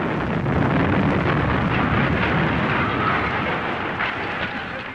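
A bomb blast on a street in Belfast, heard as a continuous loud, broad roar and rumble that barely fades over five seconds, with no voices.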